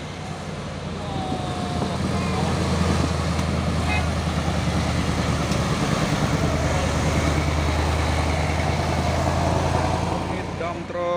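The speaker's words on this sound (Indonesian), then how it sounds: "Ini dump truk Puso ini ya" A Hino dump truck rumbles in heavy traffic with a low, continuous engine drone and road noise, heard close and steady while someone talks over it.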